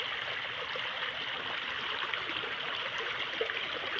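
Steady, full rushing of flowing river water, close by and even in loudness throughout, with no voices.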